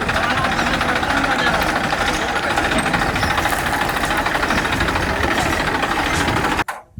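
A tractor engine runs loud and steady on a village lane, its knocking rumble unbroken for several seconds before cutting off abruptly near the end.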